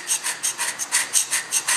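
Steady rhythmic strokes of a hand scraper on a metal machine-tool surface, about eight close, even rasping passes in under two seconds with no talk.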